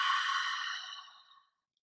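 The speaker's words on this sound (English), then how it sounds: "Just inhale through the nose like you're fogging up a mirror on the exhale." A single long breath exhaled through an open mouth, like fogging a mirror, soft and airy, fading out over about a second and a half with no talking.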